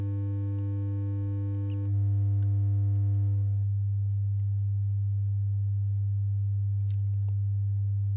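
Pure steady tones hold constant, with a shift in pitch partway through, leaving a low continuous tone alone with faint clicks.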